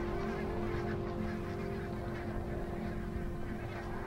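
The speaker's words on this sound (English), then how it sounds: "barnacle geese arrive right on cue at the same Scottish river" A large flock of barnacle geese arriving at a Scottish river in winter honks continuously, many overlapping calls blending into a dense chorus over a low steady rumble.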